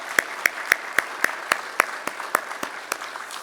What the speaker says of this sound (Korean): 우리 박수로 한 번 더.